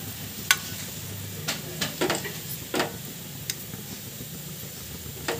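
A bay leaf sizzling in well-heated oil for mutton curry, a steady frying hiss close by with a handful of sharp crackles and spatters scattered through it.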